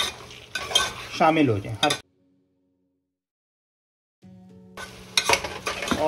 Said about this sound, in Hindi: इस तरीके से चम्मच चलाते चले जाएंगे ताकि वो मसाले जो हैं वो आलू और भिंडी के साथ अच्छी तरह